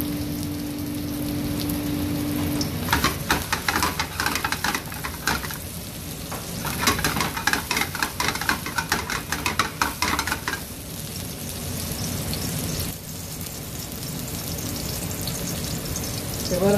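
Chopped onion and garlic sizzle in olive oil in a kadai, a continuous crackling fry that swells into busy bursts while being stirred, then settles back to a steady hiss, close and fairly loud.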